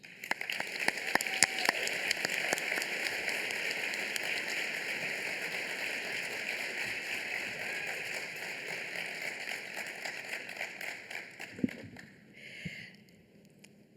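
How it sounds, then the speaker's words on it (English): A conference audience applauds steadily after an award speech at a cochlear implant gathering in Vancouver, a dense sustained clapping that fades out near the end. "Jill's amazing, so I think she deserved all of that applause"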